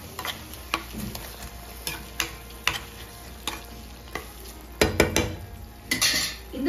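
A spoon stirs thick tomato thokku gravy in a pan, scraping and clinking against the metal in an irregular rhythm of sharp taps, with soft frying in the oil beneath and no voices.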